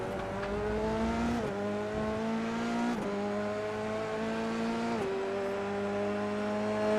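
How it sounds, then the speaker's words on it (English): High-pitched Formula 3 race car engines in a sim racing game at Monza whine continuously, with sharp pitch drops at each gear shift roughly every one and a half seconds, loud and close. "To hear these fantastic Formula 3 cars."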